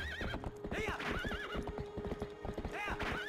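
Epona, the horse in the video game The Legend of Zelda: Twilight Princess HD, whinnies repeatedly over rapid hoof clip-clops, with a steady tone and a sustained note running beneath, close and clear.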